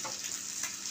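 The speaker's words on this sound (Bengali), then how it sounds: "1 থেকে 2 মিনিট আমি ডিমটা ভেজে নিব।" Small cut pieces of egg frying in a pan for Maggi noodles, a soft, steady sizzle with faint pops, heard alone.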